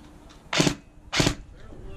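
Two sharp airsoft gun shots pop close by during a skirmish game, evenly spaced about half a second apart, with faint background voices.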